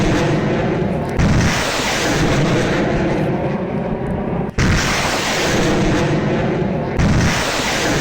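Russian multiple rocket launcher strikes on Donetsk, Ukraine, come as loud, sustained rumbling roars with abrupt booming onsets, a heavy continuous barrage.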